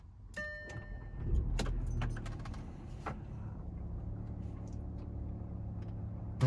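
Audi Q7 pulling away at the start of a road test, a low engine rumble from inside the cabin with a few clicks and small rattles, fairly quiet and steady, no talking.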